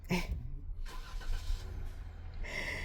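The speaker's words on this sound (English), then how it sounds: "He's still trying to park his car, his truck," A truck engine idles and rumbles nearby while the driver maneuvers to park, a low steady drone with a few louder swells and a brief higher whine, no talking.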